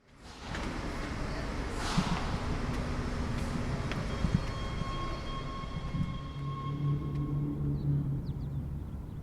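A Metro P-Line Red train rumbles along steadily, with squealing rail tones and a rising and falling whine.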